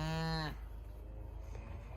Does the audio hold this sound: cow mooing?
yes